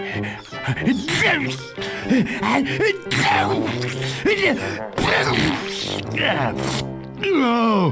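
A cartoon character sneezes during a Toonstruck game scene, a sharp burst that stands out among animated voices talking throughout, with gasps and comic vocal noises around it.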